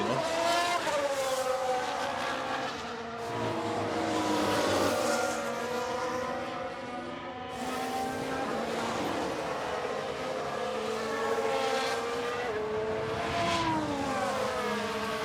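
An F1 race car engine in F1 Manager 2022 screams at full throttle, a loud, continuous high-pitched whine with rising gear sweeps and brief dips at upshifts, heard up close and alone.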